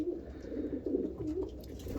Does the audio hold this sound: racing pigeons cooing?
yes